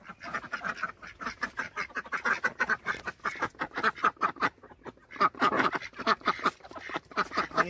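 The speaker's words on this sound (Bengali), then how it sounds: "এখানে হাঁস আছে" Resort ducks near a pond at a Bakkhali beach resort in West Bengal, quacking close and loud in rapid, overlapping bursts with short pauses.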